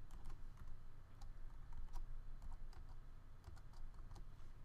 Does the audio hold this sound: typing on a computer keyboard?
yes